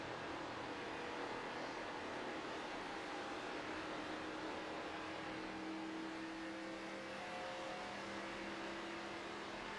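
Steady, loud race car engine drone from a Chevrolet Camaro on the Atlanta circuit in iRacing, holding a continuous hum with a slight rise in pitch toward the end and no talking.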